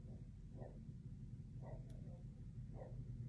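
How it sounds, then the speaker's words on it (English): Dogs barking faintly in the background, three spaced bursts over a steady low hum, distant and quiet. "Sorry if you hear the dogs barking."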